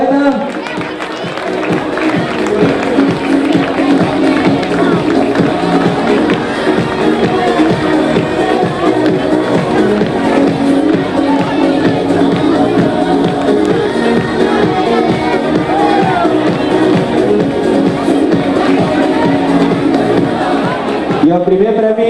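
A carnival ball audience fills the hall with dense, continuous crowd noise and clapping, loud and steady throughout, with voices mixed into the din.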